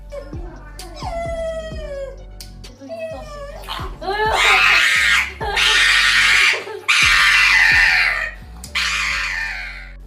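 A dog yelps and howls in rising, whining cries as its owner cuts a cake, several loud bursts separated by short pauses, mixed with overlapping vocal sounds.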